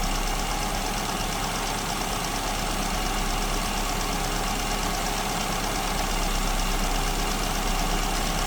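A car engine fitted with an SU carburetor idles on a lean mixture, a close, steady low rumble and mechanical clatter running unbroken without any voices.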